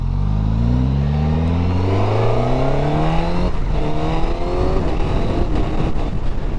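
A Suzuki GSX1000 GT motorcycle engine pulling hard through the gears, loud and close, with rising engine pitch that drops briefly at each upshift before climbing again.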